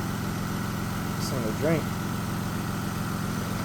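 A Lexus SC300 idles steadily nearby with a low, even engine drone, while a voice briefly speaks over it.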